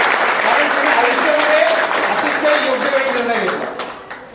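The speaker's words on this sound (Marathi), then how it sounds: "एकदा जोरदार टाळ्यांचा कडकडाट तुमच्या सगळ्यांचा" Loud, dense applause from an audience at a franchise get-together, with a voice carrying over the clapping before it thins out and fades at the end.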